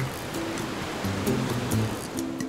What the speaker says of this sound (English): Oh my gosh, here comes a wave!